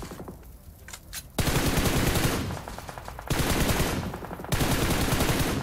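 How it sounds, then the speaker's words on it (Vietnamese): Rapid full-auto AUG assault rifle fire in PUBG Mobile, loud and close, coming in three long sustained bursts separated by short pauses, with no talking. "Mùa này AUG bắn rát lắm đấy."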